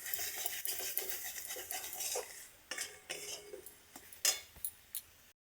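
A spatula scrapes and stirs a spiced mixture with cumin powder as it fries in a pan until dry, making repeated close metallic scraping strokes over a faint sizzle, with no talking.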